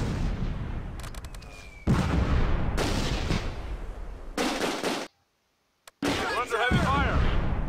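Heavy artillery and gunfire roar in a World War II river crossing battle at Nijmegen, with loud repeated bursts of blasts and shooting separated by brief pauses, including a moment of near silence.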